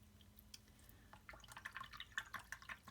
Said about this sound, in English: I'm doing sort of a figure 8 in the water cup, and that is supposed to get the most thorough rinsing of your brush.